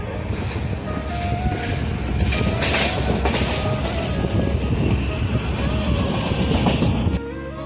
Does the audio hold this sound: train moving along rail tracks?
yes